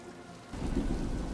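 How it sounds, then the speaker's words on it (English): Rain and rolling thunder from a stormy scene in the TV drama House of the Dragon, played on a screen: a low, quiet rumble swells midway under a soft, steady hiss of rain. "Then it's raining again"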